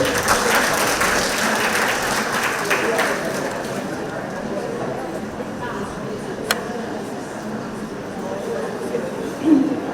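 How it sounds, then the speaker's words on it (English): People at a monthly meeting give a round of applause that starts fairly loud and gradually thins into scattered claps and murmuring chatter, with a sharp click and a brief voice near the end. "Give her a round of applause."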